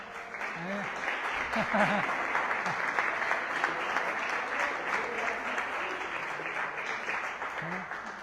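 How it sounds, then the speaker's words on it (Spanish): A seated audience at a conference on the sacredness of the Mass gives a round of applause, a steady moderate patter of many hands with a few voices talking over it. "al Padre Ramiro, para quien les pido un aplauso, por favor"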